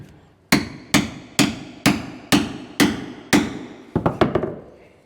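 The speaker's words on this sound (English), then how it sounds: "I think I'm just gonna do the old hammer wedge trick" Seven evenly spaced, loud hammer blows strike metal on a wedge while fitting a tiny house vent pipe, each ringing briefly, followed by a quick cluster of lighter taps.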